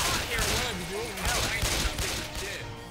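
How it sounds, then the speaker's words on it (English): Gunfire in the game Left 4 Dead 2, with a loud burst of overlapping shots and rumbling blasts that fade toward the end, while voices shout over the shooting. "Quit shooting!"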